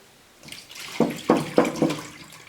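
Water glugs out of a gallon jug in a few quick close splashes during garden planting, with no talk over it.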